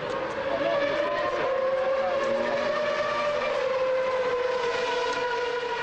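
A 1993 Williams Formula 1 car driven by Damon Hill at a test session, its high-pitched engine screaming steadily and loudly as it passes at speed, with the pitch sliding gradually downward over about six seconds.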